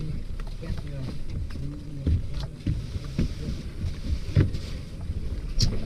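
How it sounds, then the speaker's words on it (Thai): Riding a boat on a river near Muang Ngoi, Laos: a low, steady engine rumble with wind buffeting the microphone and occasional thumps, while people talk quietly over it. "บรรยากาศเรือก็ประมาณนี้ครับ"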